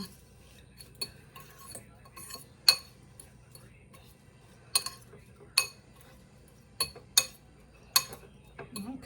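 Utensils scrape and clink against a dish while panko breadcrumbs are mixed for a macaroni and cheese topping, giving a quiet run of sharp taps and clicks at irregular intervals over a soft low background.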